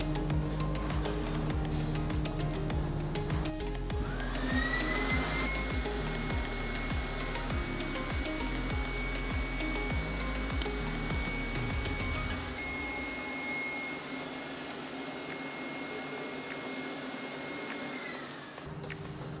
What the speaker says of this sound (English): the vacuum filtration collects all particles in the filter, making disposal easy